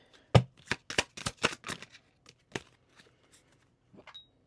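Tarot cards are shuffled close up, a quick run of crisp riffling snaps followed by a few sparse, softer card taps.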